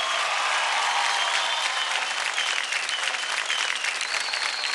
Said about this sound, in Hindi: Come on guys, हमारे पावरफुल आर्यो के लिए पावरफुल वाली तालियां